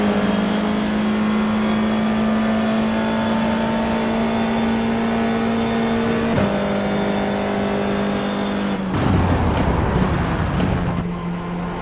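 FIA F4 race car engine in iRacing, a loud steady high whine held through a gear, then a sudden shift and rough revving burst before settling again; continuous, close and alone.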